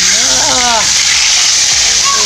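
Milkfish frying in very hot oil, a loud, continuous sizzle and spatter close by, with brief voice-like tones rising over it.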